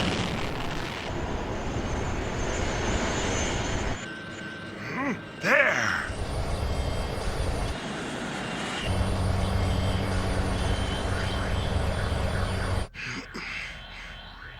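A plane flying in an animated Gundam episode: a roaring engine drone that shifts and surges across several cuts, with a brief burst of blast-like noise and a short spoken word partway through.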